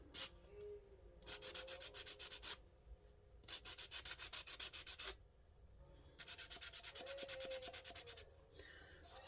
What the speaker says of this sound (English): Sand right here